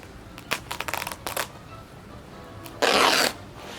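Leftover landscape fabric is cut close by, with a quick flurry of crisp snipping and rustling, then a pause and one longer, louder tearing slice.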